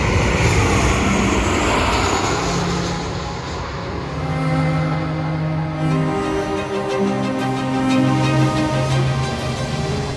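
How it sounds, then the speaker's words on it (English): A fixed-wing airplane landing at Madeira Airport roars loudly and steadily for about ten seconds, engine tone shifting as it passes close by, with no talk. "On the other side of the runway you can watch the planes landing."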